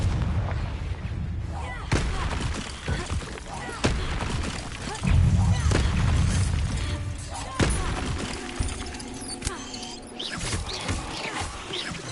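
Confringo fire-spell blasts boom repeatedly in Hogwarts Legacy, heavy explosive bursts landing in irregular succession over a dense, rumbling layer of battle noise, with a voice calling out intermittently.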